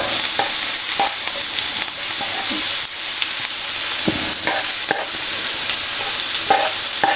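Onion and garlic sizzle loudly in a hot pan for braised beef, a dense, constant frying hiss up close, punctuated by irregular clicks and scrapes of a utensil stirring.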